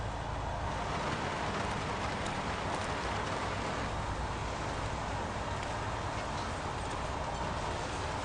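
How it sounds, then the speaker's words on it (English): Heavy rain pouring in the video game Heavy Rain, a dense, unbroken hiss of downpour filling the scene at constant loudness, with no voices over it. "goddamn rain hasn't stopped pouring since I arrived"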